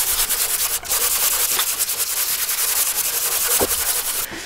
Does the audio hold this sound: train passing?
no